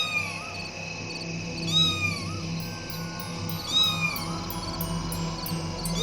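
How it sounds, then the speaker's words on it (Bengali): A black cat meows at night in a few drawn-out, wavering cries spread across several seconds, fairly close and clear over a low steady background. "হ্যাঁ, আবার বিড়াল।"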